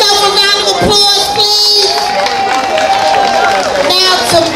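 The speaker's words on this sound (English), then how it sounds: "Give yourself a round of applause," Audience at a Harlem basketball reunion event cheering and whooping, a loud crowd roar with shouts and high-pitched whoops rising over a lively babble of voices.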